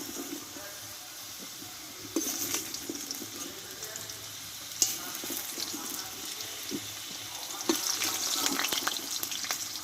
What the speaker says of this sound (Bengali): আমি আলুটাকে তুলে নেব একটা চামচের মাধ্যমে তুলে নেব আমি আলুগুলোকে